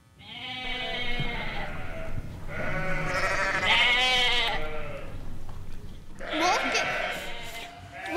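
Children performing in a kids' choir musical imitate sheep with voices, making several loud, close, drawn-out wavering bleats with short pauses between them.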